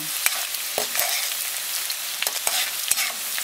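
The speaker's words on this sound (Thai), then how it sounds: "นำหอมแดงที่หั่นบางลงทอดใช้ไฟกลาง" Thinly sliced shallots sizzle steadily in hot oil over medium heat, a soft continuous crackle broken by a few light taps and stirs of a utensil.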